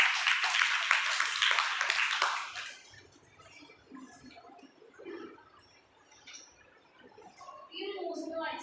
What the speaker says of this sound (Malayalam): എനിക്ക് ക്ലാപ്പ് കൊടുത്ത്